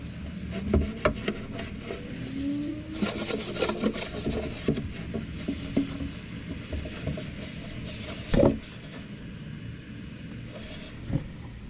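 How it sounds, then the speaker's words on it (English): An old wooden hutch being wiped down with a tack cloth, giving steady soft rubbing and brushing strokes on the wood, close up, with a sharper knock or scrape near the end and no talking. "you guys didn't want to sit there and watch me just wiping this whole thing down"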